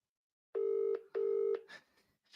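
Two sustained telephone dialing tones, each about half a second with a short gap, followed by a few faint clicks and rustles, heard alone in an indoor room.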